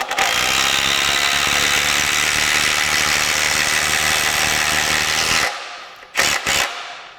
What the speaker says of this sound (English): the drill might be faster at doing that with less noise